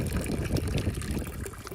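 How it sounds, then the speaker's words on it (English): Spring water runs steadily from the mountain along a street, a continuous close trickling and splashing flow with no pauses. "It's so sustainable because the water is just running all the time"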